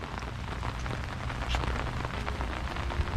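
Steady rain falls outdoors on a morning of checking trap lines, a dense, continuous patter of drops on surfaces with occasional louder splashes, close and even throughout with no voices.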